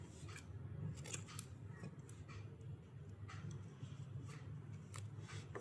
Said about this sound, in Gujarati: દોરો કટ કરી લઈશું આપણે.